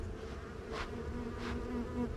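Bees buzz around a small beehive on a farm, a faint, continuous drone with a couple of louder passes as individual insects fly close by.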